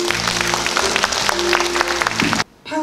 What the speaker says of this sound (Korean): 여러분들 백순복 사장님을 모실 때 큰 박수로 맞아주시기 바랍니다.